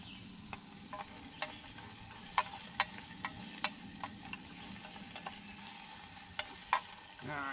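Sausage and barley frying in a metal canteen cup, a quiet steady sizzle under scattered sharp clicks and taps of a small spoon stirring against the cup.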